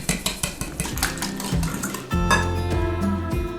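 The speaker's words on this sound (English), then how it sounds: "Now mix everything together." Eggs, plain yogurt and sugar being mixed in a bowl, a run of quick rhythmic clinks of a utensil against the dish, then a denser clattering stir, close and distinct.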